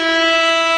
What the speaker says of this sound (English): That's appropriate air horn right there.